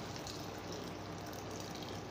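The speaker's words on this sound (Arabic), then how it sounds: "هنزل بسم الله بالميه السخنه" Hot water poured into a pot of shrimp with a garlic clove, a steady broadband rush of liquid filling the pot, continuous and fairly quiet with no talking.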